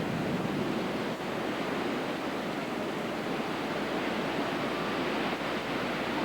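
Hurricane surf from Hurricane Iniki pounds the West Maui coast in a dense, unbroken roar of crashing waves, loud and close, with wind buffeting mixed in and no voices.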